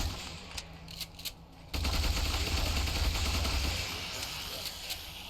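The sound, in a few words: gunfire against zombies in video game Ultimate Epic Battle Simulator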